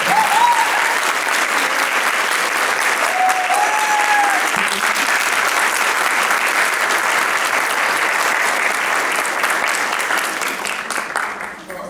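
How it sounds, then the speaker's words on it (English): Loud, sustained applause from a large audience at the end of a recital, dense clapping that holds steady and then begins to thin toward the end. "Let's give one more big round of applause for Sadhvi from Africa."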